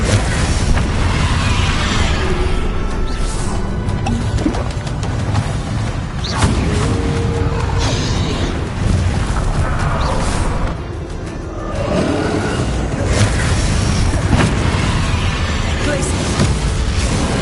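Explosive spell blasts in the Hogwarts Legacy game: repeated heavy booms and bursts with whooshes land one after another amid game combat noise, while a voice can be heard over the action.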